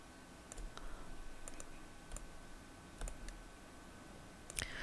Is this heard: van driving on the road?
no